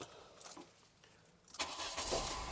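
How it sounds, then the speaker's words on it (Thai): A Volkswagen Golf Mk3 engine cranks and catches, then settles into a steady idle nearby after a quiet moment. "เดี๋ยวเรามาฟังในส่วนของเครื่องยนต์นะครับ"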